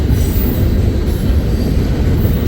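A Union Pacific local train working a rail yard in Nebraska or Iowa: loud, close, continuous low rumbling of rolling cars and wheels, with a thin high squeal over the top and no voices.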